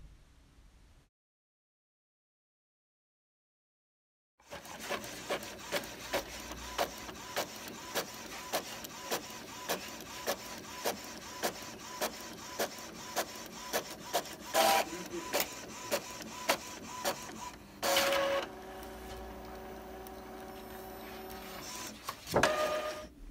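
Printer feeding and printing an order on cardstock, with a steady run of regular mechanical strokes and paper-feed whirs after a short silence, ending in a louder motor burst as the sheet ejects.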